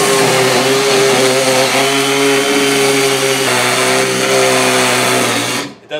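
A DeWalt 20V battery chainsaw fitted with a Steel Demon blade cuts into wood, its motor whining loud and close at a steady pitch for several seconds before cutting off abruptly at the end.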